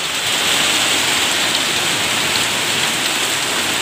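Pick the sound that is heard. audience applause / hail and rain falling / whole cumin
hail and rain falling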